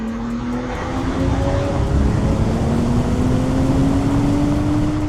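A BMW M440i's B58 engine accelerates hard in a tunnel after a downshift. A loud, rising drone climbs steadily in pitch and swells after the first second, with heavy wind and road rumble.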